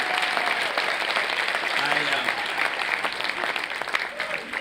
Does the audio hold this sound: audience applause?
yes